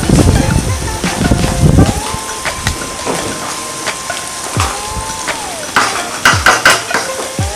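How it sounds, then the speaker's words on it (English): A spoon stirs and scrapes through jollof rice in a metal cooking pot, with scattered clinks and clatter close by that grow into sharper knocks toward the end. "I have to stir it a little bit."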